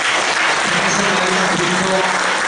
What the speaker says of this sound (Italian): mi invece domando un applauso per Alessia Bellone